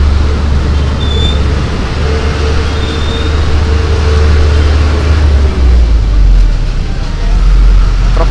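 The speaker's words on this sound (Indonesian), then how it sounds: "Truk pasir nih." A loud, close sand truck rumbles past on a narrow road in Malang, its deep engine and road noise filling the whole stretch and swelling toward the end.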